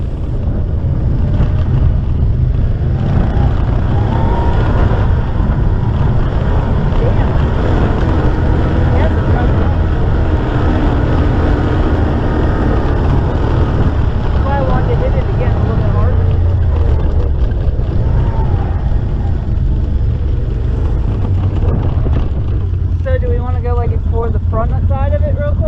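Off-road vehicle riding through Jawbone Canyon, a loud, continuous engine drone mixed with heavy wind buffeting the microphone, with talking over it throughout.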